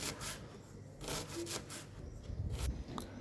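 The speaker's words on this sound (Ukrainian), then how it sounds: "Цибулю ріпчасту нарізаємо тоненькими смужками." Knife slicing onion into thin strips on a board, a series of quiet rhythmic scraping cuts close by, with a few soft knocks on the board.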